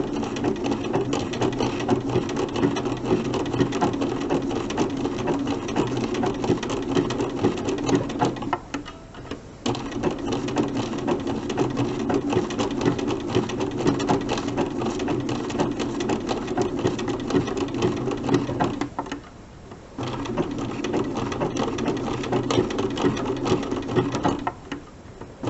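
A sewing machine runs in steady bursts stitching appliqué around a curve of a snowman block, humming and ticking continuously with two brief stops for pivots, near and alone.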